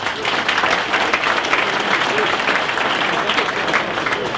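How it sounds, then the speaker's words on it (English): A crowded, sold-out hotel keynote dinner audience gives itself a round of applause, a loud, steady roar of many hands clapping at once with crowd voices mixed underneath throughout. "give yourselves a round of applause"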